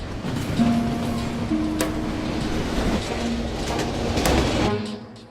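A runaway train rumbles along the rails with a continuous roar as its air brakes are fully applied, metallic squeals and occasional clacks, fairly loud and close.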